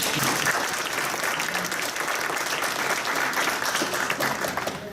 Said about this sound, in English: let's give Celia a round of applause